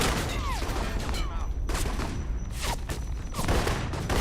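Gunfire from a firefight in the video game Alpha Protocol, sharp broadband shots arriving in irregular bursts over dense constant battle noise, fairly loud and close throughout.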